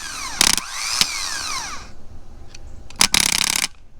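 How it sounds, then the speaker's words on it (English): A van's starter motor, jumped across its terminals with a screwdriver, gives short whirring cranking bursts: one near the start with a sharp click after it, then a longer second burst, each with a whining tone that sweeps and fades. "You can see the starter starting. And all I'm doing is just jumping it with my screwdriver."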